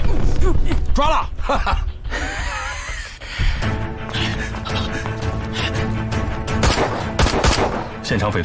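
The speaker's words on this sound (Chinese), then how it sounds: "现场匪徒开枪" Gunfire crackles in rapid bursts and volleys during a police shootout with drug gang members in an action crime film, loud and close, mixed with shouts, gasps and groans.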